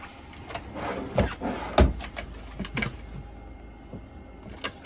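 Storage drawers in an Elddis Autoquest 140 motorhome sliding open and shut, a series of irregular clunks and rattling slides, moderately close and with no talking.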